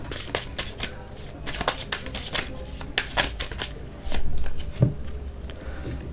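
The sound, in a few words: shuffling tarot cards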